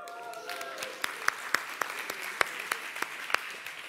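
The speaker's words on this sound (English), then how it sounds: "clapping slightly muted there by the people who are still hungover" Sparse, muted clapping from a conference audience at a lightning talks session, distinct individual claps spaced through the stretch over a low crowd murmur, with a voice briefly heard at the start.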